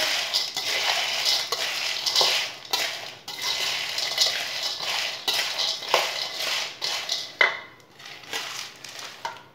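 Roasted makhana and chickpeas being stirred together in a pan with the stove off, giving a dense, continuous rattle and scrape of utensil against metal with repeated clinks, close and steady throughout.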